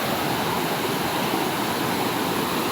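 A swollen stream or waterfall after the water has risen, a loud, steady broadband roar of rushing water, constant and unbroken with no voices.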